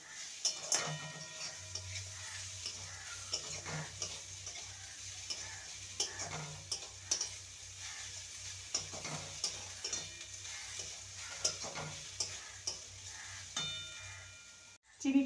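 Sugar and grated coconut are stirred in a pan, producing quiet, rhythmic scraping strokes over a soft sizzle, close and steady, with a low hum underneath and no talk.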